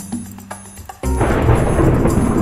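A sudden crack and roll of thunder in Minecraft breaks in after a second of quieter game sounds, then rumbles on loud and broad to the end.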